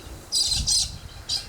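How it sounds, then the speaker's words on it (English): Birds calling around an abandoned 1970s homestead with a tin-roofed shed, several short bursts of high chirping that come and go, fairly close, with no talk. "And there's lots of bird life around too,"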